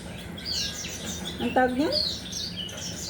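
Pet birds chirp and sing indoors, giving a few bright, quick tweets and a short warbling phrase at moderate distance while a person talks nearby.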